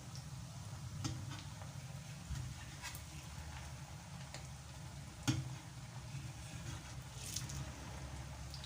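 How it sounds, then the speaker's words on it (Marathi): Samosa-kachori snacks fry in hot oil with a soft, continuous sizzle and scattered faint pops and ticks, one sharper click standing out midway, quiet and close with no talking. "तर आता आपण सर्वच अशा प्रकारे तळून घेऊया"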